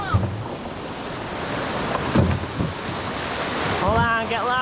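River rapids at Sanford Falls roar as a canoe runs over them, a loud wash of churning water and wind buffeting the microphone, with a shout rising near the end.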